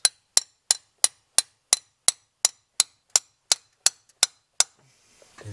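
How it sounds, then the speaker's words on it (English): Sharp metallic strikes of a tool hitting bread packed into a car's clutch pilot bearing bore on an S14, thirteen evenly spaced impacts in a steady rhythm, close and loud, then a brief shuffle. "We're just hammering some bread right now. We're taking the pilot bearing out with some bread"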